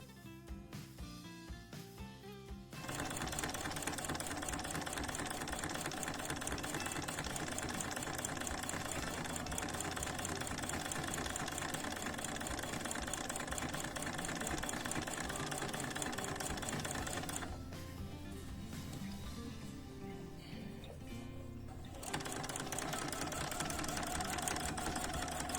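Sewing machine running steadily while stitching a continuous quilting line in figure-eights around motifs, a loud sustained mechanical whir that pauses briefly near the middle and resumes.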